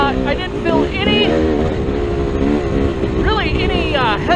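GasGas EC300 two-stroke dirt bike fitted with a Lectron carburetor, engine revving and shifting pitch while riding, loud and close with rising and falling tones throughout.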